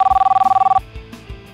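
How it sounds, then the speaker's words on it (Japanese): A telephone ringback tone pulses rapidly and loud while a call is placed, then stops and gives way to faint room noise. "一応電話してみます。"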